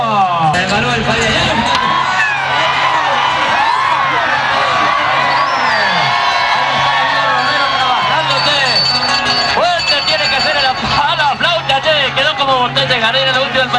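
A rodeo crowd at the Tierra Gaucha Fiesta Provincial del Toro Cebú in Paraná claps, cheers and whoops while an announcer talks loudly over the noise, which swells and dips throughout.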